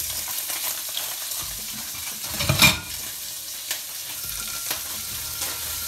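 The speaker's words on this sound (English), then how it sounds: "the fillets are so small, they're gonna almost like cook at the same rate as the shrimp here" Small sea bass fillets and shrimp frying together in a pan, a steady close sizzle with a brief louder burst of spitting and stirring partway through.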